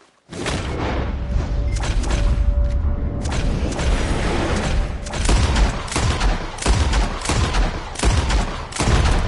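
Gunshots ring out rapidly while birds are shot out of the sky in Red Dead Redemption 2, a dense volley of loud, sharp, overlapping cracks and booms that runs for about nine seconds with a brief lull midway.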